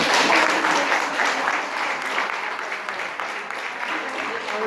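Sustained audience applause at a national workshop on preclinical drug development, a steady wash of many hands clapping evenly throughout, with a voice faintly audible beneath it.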